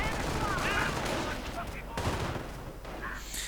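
Gunfire in a World War II strategy game battle involving a Panther tank, Volksgrenadiers and US riflemen crackles in dense bursts with distant explosions, under a commentator's steady talk.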